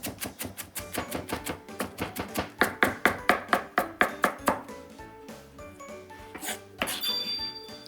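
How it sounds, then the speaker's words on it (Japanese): A knife finely mincing onion on a cutting board, with a fast, steady run of crisp close chops that then slows into a few scattered taps and a soft scrape. "玉ねぎもみじん、同じように細かめにしておきます。"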